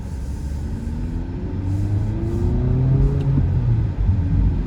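A 2023 Honda Civic Type R accelerating from the cabin, its engine giving a steady low rumble that swells slightly as speed builds, with no talk over it.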